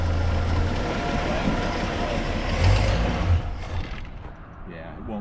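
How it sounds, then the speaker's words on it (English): Engine of a 1978 Mercury car revving briefly, a broad low rumble that swells around the middle and then falls back toward idle, heard up close amid mechanical noise. "Rev the engine a little bit."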